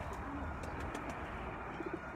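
Soft, low coos of rooftop pigeons repeat a few times near the end over a steady background hum, faint and somewhat distant.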